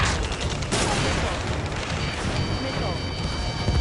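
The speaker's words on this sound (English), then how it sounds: "Taking fire! We're pinned down! Shoot back!" Video game firefight on PS4 with dense, continuous gunfire and explosive booms layered into a loud chaotic battle mix, while voices shout over the shooting.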